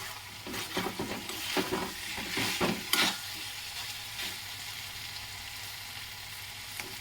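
Potatoes and green beans cooking in a kadhai on low gas, with a steady soft sizzle and several bursts of stirring scrapes in the first three seconds, then a calmer continuous frying hiss.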